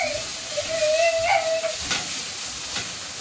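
Onion and garlic sauté in a hot pan in a home kitchen with a steady hiss and sizzle, stirred occasionally, while a faint tone sounds briefly in the background.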